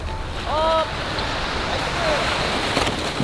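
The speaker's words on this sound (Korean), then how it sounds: "진짜 바람 때문에 미치겠다 와. 와 너무 세 바람이." Strong wind gusts across the beach at Yangyang, giving a constant broad rush over distant surf. People talk briefly over it.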